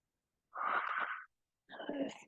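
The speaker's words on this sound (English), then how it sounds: "yawning so much today" A person yawns twice in a row, each a loud breathy stretch of sound lasting well under a second, separated by a short silence, during a gentle stretching routine.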